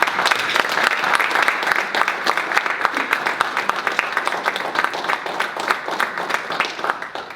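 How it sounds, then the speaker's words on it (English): Sustained applause from an audience for the panelists of a discussion on the future of Black politics: loud, thick clapping from many hands, steady throughout and easing slightly at the end. "Let's give the panelists another round of applause."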